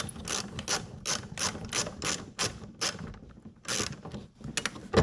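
A ratchet wrench clicks through repeated quick bursts while loosening 10mm bolts from underneath a Lexus SC430's air reflector, close and fairly loud with short pauses between strokes.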